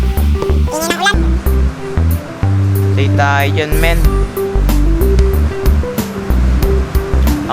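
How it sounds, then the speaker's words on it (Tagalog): Steady rain noise from the Minecraft video game, a continuous washing hiss that runs under game music and someone talking throughout. "Ang ingay ng ulan."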